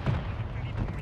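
Heavy rumbling blasts from an airstrike in Call of Duty Warzone, deep and dense booms filling the second, with a voice faintly under them.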